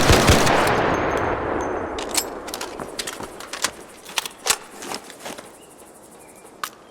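Rapid bursts of gunfire from the Bettina rifle in a video game, starting loud and dense, then breaking into scattered sharp shots that fade toward the end.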